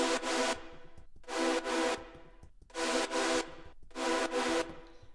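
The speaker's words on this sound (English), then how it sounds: "a white noise layer that follows the rhythm of the chords" Four bursts of sustained synth chords layered with bright hissing noise, each swelling then cutting off, with short gaps between them.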